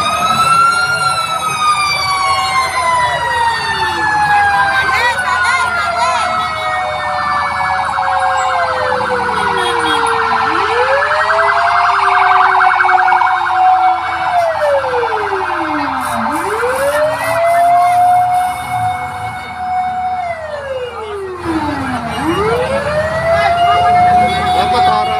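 A fire truck siren wails loudly and close as the engine arrives at a large fire on a village road, cycling through repeated rising and falling sweeps over street noise.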